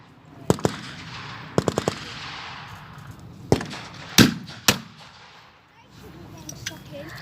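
Bursts of machine gun fire in a WW2 battle video game, short rattling volleys and single sharp cracks spread across the moment, loud and close, with low battlefield rumble between shots and fainter distant firing toward the end.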